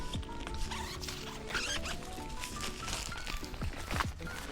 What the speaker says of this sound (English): There's a zipper.